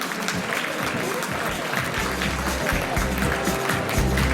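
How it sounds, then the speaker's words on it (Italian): An audience at a Miss Italia Veneto 2016 pageant applauds the contestants on the catwalk, with continuous, fairly loud clapping over music and a low thumping beat throughout. "Intanto facciamo un bel applauso per loro, sono tante."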